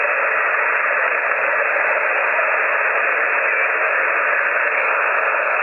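FT8 digital signal received on a ham radio in upper sideband mode, a steady band of hiss and static with faint data tones buried inside, constant and unbroken throughout.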